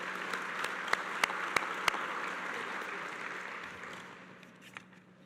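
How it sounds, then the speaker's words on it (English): A seated crowd at a museum's World War II victory commemoration ceremony gives moderate, sustained applause with a few sharp individual claps standing out, then the clapping thins and fades away. "give yourself a round of applause for your support of the museum"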